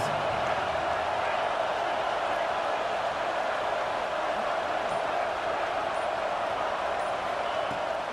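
A stadium crowd at a Kentucky versus Auburn football game roars steadily behind the defense late in the first half, a dense, constant wall of noise with no clear breaks.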